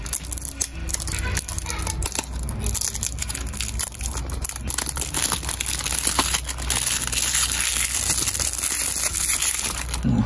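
Packaging for a Tomica toy car crinkles and rattles as it is opened by hand without scissors, a close, busy run of crackling plastic and cardboard rustles that continues throughout with no speech.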